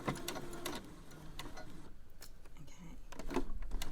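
Home sewing machine backstitching in reverse at the end of a seam on a fabric scrunchie, a steady quiet mechanical whir with light rapid ticking and clicks, close up and without talk.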